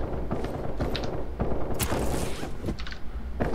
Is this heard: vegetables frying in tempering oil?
no